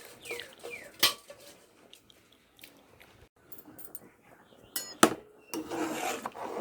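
Rice being stirred into boiling milk for kheer, with irregular scraping and clinking of a spoon against a metal pot, a few sharper knocks among quieter rubbing sounds, close by with no talking.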